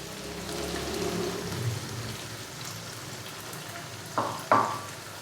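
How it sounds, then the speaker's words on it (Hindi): Chicken frying in a pan for aloo chicken shorba, with tomato paste made from two or three tomatoes added: a continuous close sizzle, then two sudden louder hissing bursts near the end. "चिकन को अच्छे से भूनने के बाद अभी मैं इसके अंदर डालूंगा टमाटर का पेस्ट।"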